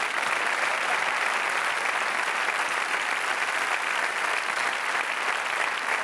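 Sustained, dense applause from a theatre audience at a comedy show, steady and loud throughout with no pauses, like a full house clapping for the crew.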